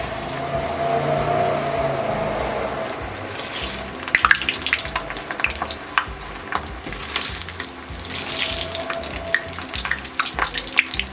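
Homemade fries bubble and sizzle in hot oil, a dense, continuous frying hiss close by, with crackling bursts growing busier partway through and no talking.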